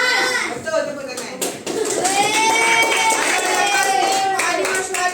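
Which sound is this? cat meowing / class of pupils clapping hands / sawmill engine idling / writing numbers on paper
class of pupils clapping hands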